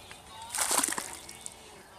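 A duck dives into the Cutzamala River, making a short burst of splashing and sloshing water at moderate distance, with quieter water sounds before and after.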